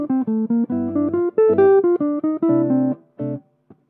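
A short jazz arpeggio line over a 2-5-1 progression, quick plucked notes climbing and falling through broken chords, ending with a held note and a soft final pluck.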